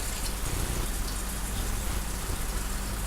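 Tap water runs steadily from a kitchen faucet while it warms up, a continuous even hiss and splash with no pauses and no voices.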